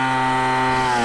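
A steady, buzzing dirt bike engine drone, a KTM, Husqvarna or Gas Gas TPI two-stroke running rough, runs close and loud for about a second, then cuts off abruptly.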